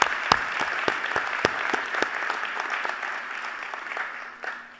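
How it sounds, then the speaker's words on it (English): Sustained audience applause at a university presidential installation ceremony, dense clapping from a large crowd with a few sharper nearby claps, steady then slowly fading. "Give yourselves a round of applause."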